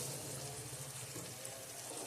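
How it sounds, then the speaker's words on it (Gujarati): Water is poured into a pot of cooking papaya curry, a soft steady gush and splash, faint and continuous, with no one talking. "અને હવે આપણે આમાં થોડું પાણી નાખી દઈશું."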